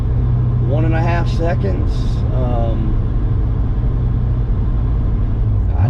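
A Procharged 416ci 2017 Corvette Z06 with Holley port injection and drag radials pulls hard in second gear, its engine a loud, steady in-cabin roar while someone talks briefly over it.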